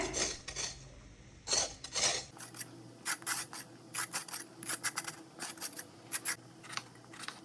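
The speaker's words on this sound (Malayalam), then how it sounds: "സൈഡിൽ തന്നെ തോരന് വേണ്ടിയുള്ള പടവലങ്ങയും കൂടെ ഒന്ന് ക്ലീൻ ആക്കി എടുക്കുന്നുണ്ട്." Snake gourd being scraped clean by hand in a home kitchen for thoran, a series of short rasping scrapes in an uneven rhythm, close and quiet, with no talking.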